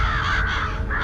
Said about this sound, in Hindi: तेज होती कौवों की आवाज की तरफ गई।